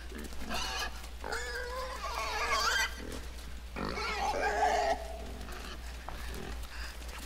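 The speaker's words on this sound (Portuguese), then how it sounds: "Tá, porco, tá vivo?" A pig grunts and oinks in a few low bursts, one near the start and another in the middle, over a steady hum of background noise.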